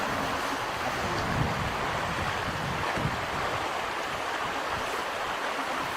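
River water rushes steadily in a continuous broadband wash, fairly soft and even, with no voices.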